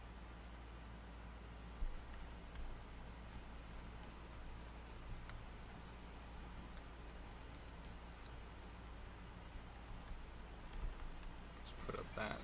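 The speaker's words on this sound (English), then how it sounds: "it's nighttime and it's pouring rain" Pouring rain at night in the game Oblivion, a faint, continuous wash of rainfall with occasional soft patters, steady and distant across the whole stretch.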